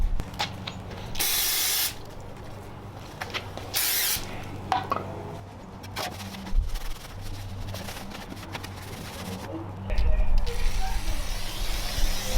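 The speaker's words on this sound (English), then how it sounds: "I'm just going to use some brake cleaner, spray it on here, and then rub it off." Short hissing bursts of brake cleaner spray onto a greasy radiator part of a 1993 Mazda RX-7, a few separate blasts, mixed with clattering and handling noises close by.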